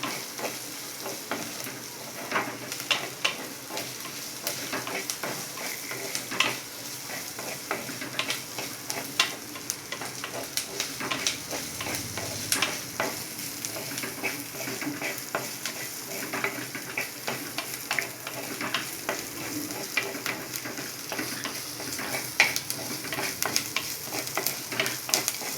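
Ginger garlic paste sautéing in a hot pan for a broccoli peas curry, a steady close sizzle and crackle with occasional light scrapes of stirring, continuous for the whole stretch with no talking.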